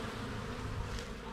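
Honey bees and larger drones flying around a bait hive trap on a sunny day, a steady close buzzing swarm drone that holds at an even level throughout, with no voices.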